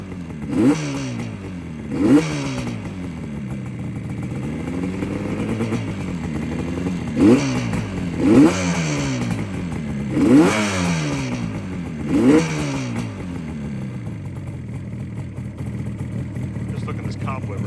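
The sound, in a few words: 1976 Yamaha RD400 motorcycle engine revving after cold start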